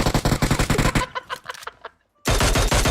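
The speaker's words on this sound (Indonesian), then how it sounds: "Tembak terus yuk" PUBG Mobile gunfire rattles in rapid automatic bursts, loud and close, breaking off briefly into scattered shots and a short silence before another dense burst resumes.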